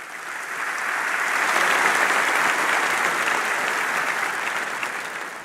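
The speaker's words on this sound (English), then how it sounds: "How about a round of applause for Jackie and Seth?" Sustained audience applause fills a large keynote hall at Microsoft Ignite, a dense, even wash of clapping that swells slightly in the middle and holds steady throughout with no voices over it.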